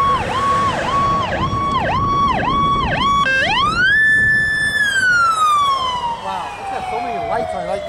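An ambulance siren at a political rally in Branford wails in repeated rising-falling cycles, then switches to a long sweeping tone that fades as it passes, loud and nearby.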